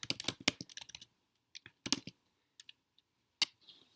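Text is typed into an Excel spreadsheet cell on a computer keyboard: a rapid close burst of key clicks, then scattered single taps with silent gaps between them.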